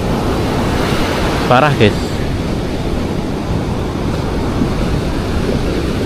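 Sea waves crash and rush continuously on an eroded beach where abrasion has toppled large pine trees, a steady roar with a gusty, wind-buffeted edge and a brief spoken remark early on.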